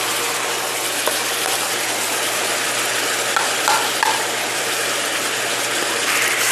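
Spicy Korean pork, jeyuk bokkeum, with green onion and seasoning stir-fries over high heat, producing a steady loud sizzle with scraping and clinking of a utensil against the pan.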